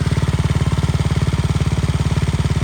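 A 155cc Yamaha NMAX scooter engine idles close by with a fast, steady, throbbing putter and a low rhythmic exhaust pulse, running alone without talk.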